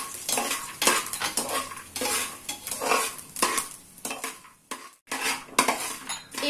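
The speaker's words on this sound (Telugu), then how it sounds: "మినపప్పు, ఎండుమిరపకాయలు వేసి ఇవి కూడా బాగా వేగనివ్వాలి." Urad dal and dried red chillies fry in a pan for okra fried rice, with close, repeated scraping and clinking of a metal spoon stirring against the pan over a soft sizzle.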